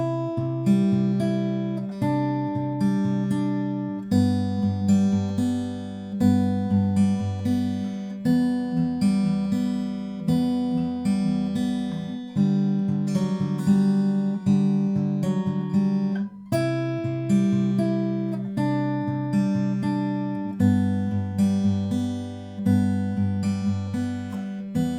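Fingerpicked acoustic guitar playing the chorus of a song, steady bass notes pinched under melodic picking, close and clear for about twenty-five seconds with no voice.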